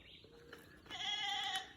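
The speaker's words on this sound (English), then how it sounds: "Do you hear the goat noises?" Goats bleat on a Jamaican hillside morning: a brief call early on, then a loud, sustained, harmonic bleat swelling in the second half, fairly close and alone without talk.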